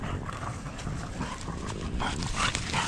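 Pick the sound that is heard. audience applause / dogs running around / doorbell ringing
dogs running around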